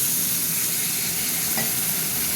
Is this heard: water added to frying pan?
yes